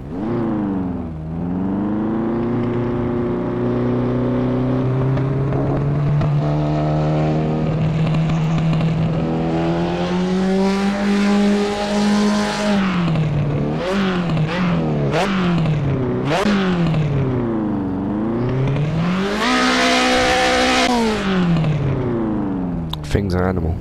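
A turbocharged Ford RS500 race car laps the Silverstone GP circuit, its engine revving hard through rising and falling gear changes, loud and close throughout, with sharp pops between shifts.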